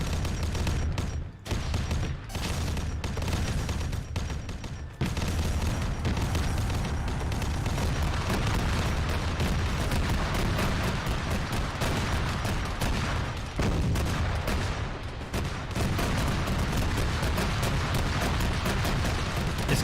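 Gunfire and explosions from Arma 3 modded with Warhammer 40K: a dense, continuous barrage of shots and booms, loud and sustained, with brief dips in the first few seconds.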